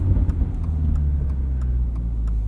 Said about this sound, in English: you hear a bit of exhaust back there now too